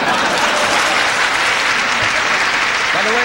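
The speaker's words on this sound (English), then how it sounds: "if we give him a nice round of applause" Steady, dense audience applause at a televised celebrity roast fills the whole stretch at full volume, with a voice briefly audible toward the end.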